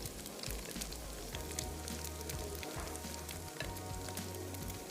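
Carrots tossed into a hot pan with cooked egg sizzle and fry steadily, a soft continuous crackle close by with faint stirring, no talk over it.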